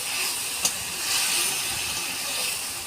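Potatoes with turmeric, chili powder and a little salt cook in a kadai, giving a steady, fairly loud steam hiss with one brief click near the start.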